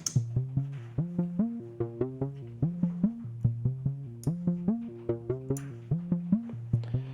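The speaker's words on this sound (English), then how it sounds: "So this is a Korg MS-20 sequence." A Korg MS-20 synthesizer plays a steady, quick-stepping sequence of plucky analog notes shifting between a few pitches, evenly pulsed and alone with no voices.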